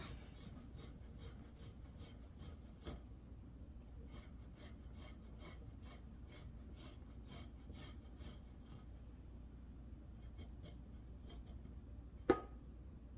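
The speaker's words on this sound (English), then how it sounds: "Clove of garlic, microplaner. And you just grate that garlic in there." A garlic clove is grated on a microplane into a bowl of mayonnaise, giving quiet, rhythmic rasping strokes in quick bursts, close and faint, with a short pause and a sharp knock near the end.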